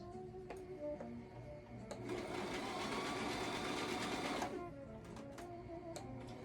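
Sewing machine stitching through thick recycled towel fabric, a close steady whirring run of rapid needle strokes lasting a couple of seconds, with quieter clicks and hum before and after.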